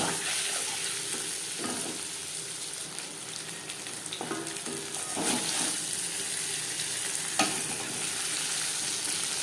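Paneer pieces fry in oil in a pan, giving a steady, dense hiss of sizzling with occasional louder stirring scrapes and clatters, close and without any voices.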